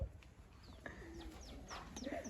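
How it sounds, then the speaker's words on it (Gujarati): Birds call from the trees of a rural farmyard, with soft pigeon or dove coos and scattered chirps, faint and distant over a quiet outdoor background. "ઝાડવામાં પક્ષી બોલે ને એનો અવાજ આવે છે."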